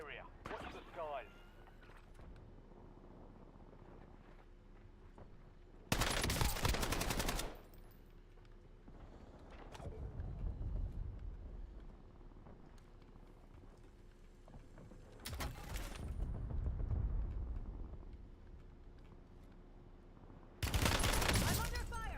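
Gunfire in a Black Ops video game, three loud, dense bursts of rapid shots spaced several seconds apart, with quieter rumbling and game noise between them and talk underneath.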